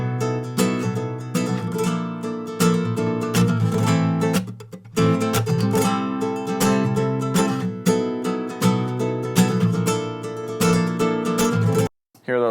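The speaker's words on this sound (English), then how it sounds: "I'm getting much more overall volume out of the entire acoustic by reducing some of the attack with the limiter." Strummed acoustic guitar chords ring out full and even, the attack evened out by a limiter so the low notes sit loud, with a brief drop near the end.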